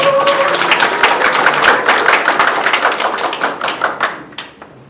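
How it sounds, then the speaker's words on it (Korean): Large audience at a residents' participatory budget committee general assembly gives a loud, sustained round of applause after a singing performance, dense clapping that tapers off at the end. "다시 한번 큰 박수 부탁드립니다"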